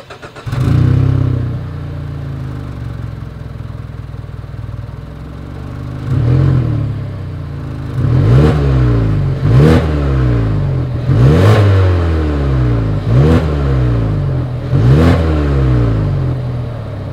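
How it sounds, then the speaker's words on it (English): A 2020 Mazda CX-30's engine revs repeatedly in sharp bursts, a low exhaust rumble between each rising roar, close and loud. "As always, here is that exhaust clip."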